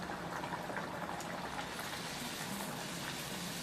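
Puri dough puffing up as it deep-fries in a pan of hot oil, a dense steady bubbling and sizzling that holds at an even level throughout with no voices.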